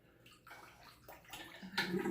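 Tap water runs into a bathroom sink to wet a cheap shaving razor, a steady close splashing flow that surges louder near the end.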